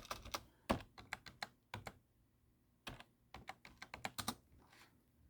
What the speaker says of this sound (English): So, of course, typing in the password.